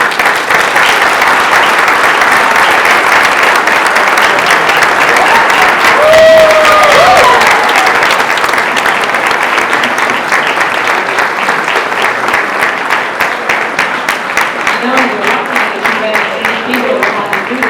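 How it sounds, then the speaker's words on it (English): An audience at a mayoral and council candidates forum in Highland Park applauds loudly and steadily for the whole stretch, a dense wash of clapping close to the listener. "And now we can applaud them all."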